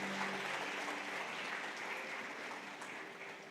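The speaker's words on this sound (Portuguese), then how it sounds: "Vamos aplaudir o Senhor." A church congregation applauding after prayer, a soft, steady patter of many hands clapping that carries on evenly and fades slightly toward the end.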